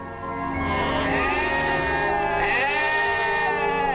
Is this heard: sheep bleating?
yes